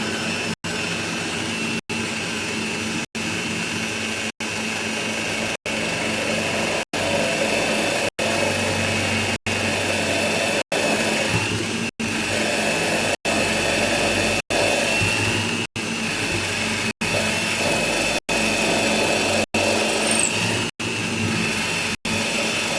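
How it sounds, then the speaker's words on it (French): A drill bores slowly with its bit kept cool, a loud, close, steady whirring drone that holds for a long stretch without voices. "On va percer doucement pour pas faire chauffer le forêt, pour pas que ça bourre ici."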